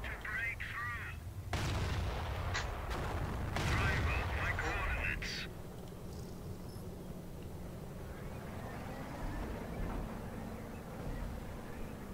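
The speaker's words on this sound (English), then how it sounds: "barrage of artillery. All of your 88s fired at one engineer." Artillery barrage from 88s in the game Company of Heroes, with heavy booming blasts and crackling gunfire over a dense low rumble, then fading into quieter distant battlefield noise with engine hum.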